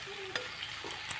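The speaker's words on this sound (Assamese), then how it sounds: "এনেকৈ ভাজি ভাজি অকণমান ঢাকি ৰাখিম এতিয়া" Jackfruit curry fries in a wok over low heat, a soft continuous sizzle close up, with a few light clinks and scrapes of stirring.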